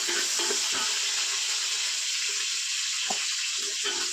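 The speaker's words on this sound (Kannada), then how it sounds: "ಇದಿಷ್ಟು ಚೆನ್ನಾಗಿ ಫ್ರೈ ಆಗುತ್ತೆ." Carrot, beans, peas and capsicum frying in a pan for paneer pulao give a loud, continuous hiss and sizzle close to the microphone, with a few soft stirring knocks.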